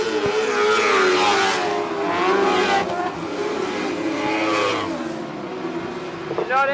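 A powerful lightning sprint race car, number 7, roars around a dirt track at Cullen Bullen Raceway, its engine loud and close with rising and falling revs as it accelerates through the turns.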